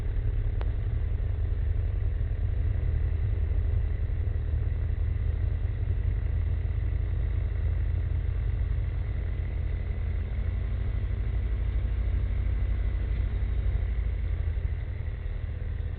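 A small aircraft's engine during a landing approach in gusty wind, heard from inside the cockpit as a steady, loud droning hum that holds level throughout with no talking.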